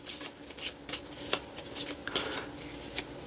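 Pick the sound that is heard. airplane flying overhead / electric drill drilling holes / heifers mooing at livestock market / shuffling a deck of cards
shuffling a deck of cards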